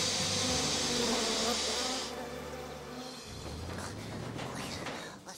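Cartoon bees buzzing in a loud, steady drone from an animated children's show, the swarm's hum dense at first, then thinning slightly and continuing to the end.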